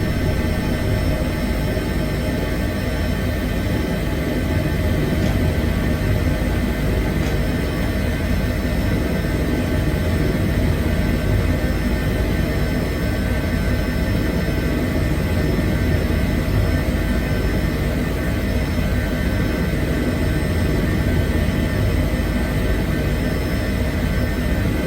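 Steady, loud engine and rotor roar of a helicopter in an emergency medical services video game, running continuously without pause or talk.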